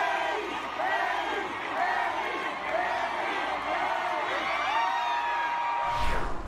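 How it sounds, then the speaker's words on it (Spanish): A concert crowd cheers and screams during a show in Mexico, a dense, steady wash of whoops and shouts with no break, loud and close throughout. "los aplausos y los gritos que el público le brindó durante su presentación"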